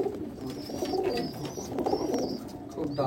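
An Abluk pigeon coos in a low, repeated rolling call, close and steady across a few seconds, with light background rustle.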